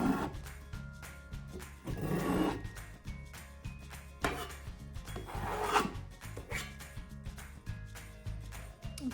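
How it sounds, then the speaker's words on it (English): Acrylic paint being scraped off a canvas in rough, rasping strokes, with a few louder swells of rubbing scrape standing out over steady background music. "I'm going to scrape that off."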